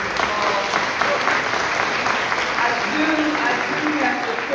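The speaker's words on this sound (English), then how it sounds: "Can we give everyone a round of applause?" Dense, sustained applause fills the hall at the U.S. Conference of Mayors in Philadelphia, an even wash of many hands clapping together without a break.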